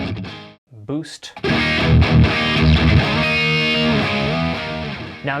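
Heavily distorted electric guitar chords crunch loudly through an amp with its boost engaged after a brief pause, thick and fuzzy, played in steady strums.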